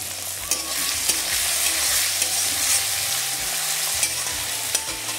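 Whole cumin, slit green chilies, chopped onion, garlic and tomato fry in hot oil, a loud, steady sizzle broken by the scrape and clatter of a stirring spoon against the pan, with no voices.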